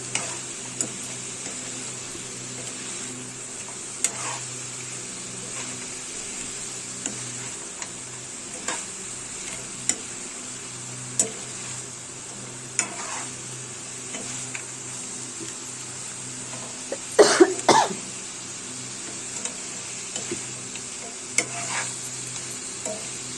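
Prawn curry with masala being stirred in a pan, a steady low sizzle with scattered scraping ticks of the spoon and a brief louder clatter partway through, close and without talk.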